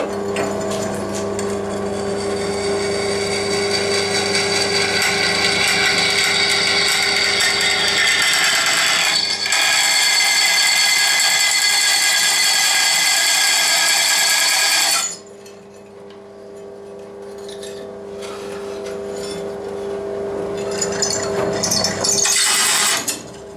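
A power drill bores into a steel potato-digger blade cut from a saw part, a loud steady whirring grind with a constant hum, stopping abruptly midway and then resuming briefly before cutting out.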